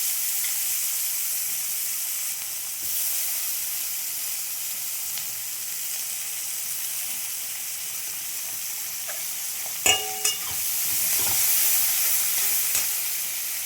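Sliced onions frying in hot oil for rohu fish curry, a steady bright sizzle throughout, broken near the end by a couple of sharp utensil knocks and a brief louder burst.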